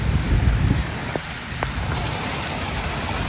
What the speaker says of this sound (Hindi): ये देखें कितनी तेज़ बारिश हो रही है लाहौर में